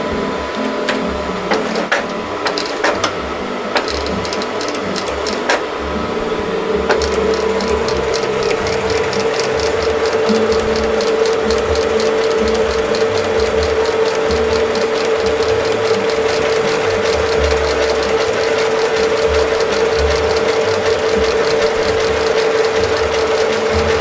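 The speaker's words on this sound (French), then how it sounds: "Je vais commencer par coudre le tour ici avant de le coudre directement" A sewing machine stitches around the edge of a leather bag flap in a leather workshop, a steady mechanical rattle of the needle running continuously and loud close up, with a few sharper ticks early on.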